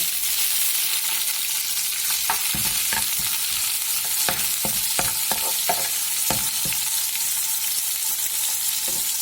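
Ginger and garlic sizzle in hot oil for a baby potato curry, a constant close frying hiss with scattered spoon scrapes and clinks from stirring.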